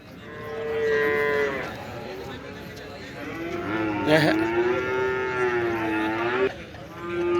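Cattle at the Talagang livestock market in Pakistan, including racing bulls, lowing in long drawn-out moos, one after another, close and loud over the crowd murmur of the market.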